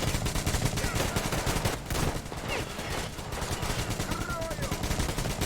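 Rapid, steady bursts of automatic gunfire in the video game Metro Exodus rattle on without pause, dense and continuous, with faint other noises mixed in.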